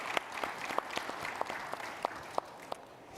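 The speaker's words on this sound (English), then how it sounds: "Can I please get a round of applause for my incredible emerging leaders?" A small audience claps for a panel of emerging leaders, with sparse, distinct hand claps spaced unevenly across a few seconds rather than a dense ovation.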